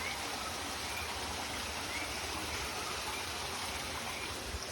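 A small creek in Puerto Rico flows steadily, a continuous broad wash of running and trickling water close by, with no voices over it.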